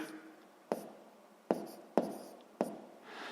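Pen strokes writing down a math calculation, four sharp taps of the pen on paper spaced irregularly, each with a brief scratchy tail, close and quiet, with no talk.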